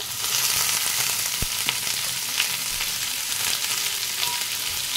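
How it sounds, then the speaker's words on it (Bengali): Sliced potatoes frying with long-cut onions in a pan for a vegetable dish, a loud, steady close-up sizzle with occasional faint clinks of stirring and no voices. "এই পেঁয়াজের সাথে আমি কেটে রাখা আলুগুলো দিয়ে দেব"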